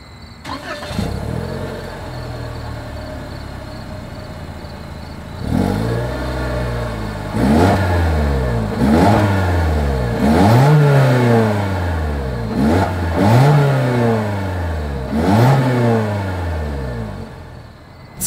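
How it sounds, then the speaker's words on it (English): A 2024 Toyota Corolla Hatchback exhaust idles, then revs in a series of sharp, rising-and-falling bursts close by, loud and repeated about six times with no talk over it. "As always, here is that exhaust clip."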